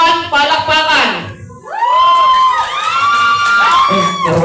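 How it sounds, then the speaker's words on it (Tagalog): Clapping and cheering from family and guests at a birthday party for contestant number one, a loud crowd roar with whoops, a brief lull, then more shouting and applause. "Contestant number 1, palakpakan."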